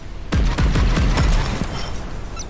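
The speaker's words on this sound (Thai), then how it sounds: "ปืนใหญ่ของผมเป็นปืนใหญ่อัตโนมัตินะครับ" An automatic naval cannon in the video game Modern Warships fires a rapid burst of heavy booming shots, close and loud, then the firing fades out.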